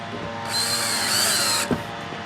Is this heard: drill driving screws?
yes